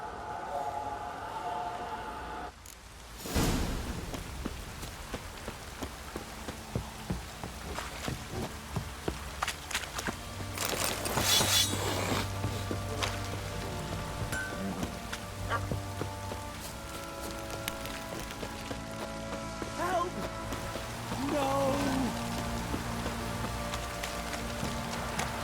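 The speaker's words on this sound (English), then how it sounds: "Don't stop raining, my arse will rot off." Steady rain patters in The Witcher 3, a continuous hiss of falling drops with scattered sharper splashes and footstep-like thuds under a distant musical drone.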